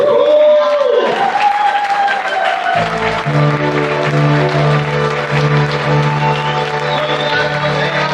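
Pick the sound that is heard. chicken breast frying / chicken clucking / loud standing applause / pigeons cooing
loud standing applause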